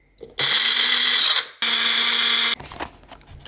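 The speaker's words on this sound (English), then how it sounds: "That's not this new coffee maker that Jamie's friends got her for her birthday." A new coffee maker runs in two loud, steady whirring bursts with a short break between them, each ending abruptly and followed by quieter rattling.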